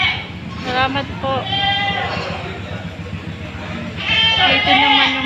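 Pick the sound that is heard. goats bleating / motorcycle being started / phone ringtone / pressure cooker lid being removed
goats bleating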